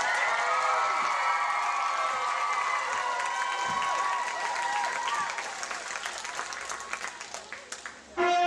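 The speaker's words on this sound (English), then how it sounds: "Members of the ETCA Kingdom, you may now cheer for your lords and ladies." A crowd at a chivalry pageant cheers and applauds for lords and ladies, a loud sustained roar of clapping and shouts that gradually thins into scattered claps.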